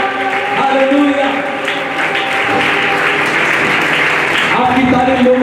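Loud, sustained applause from a church congregation at a youth ministry gathering, dense continuous clapping filling the room with crowd noise and music underneath for the whole stretch.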